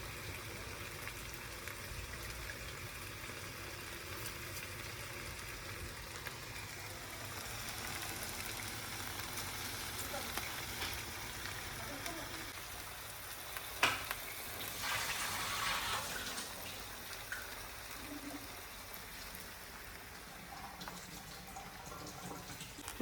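Soaked basmati rice frying in a pan, a steady low sizzle with scraping stir strokes running throughout, a few sharper clatters near the middle, no voices.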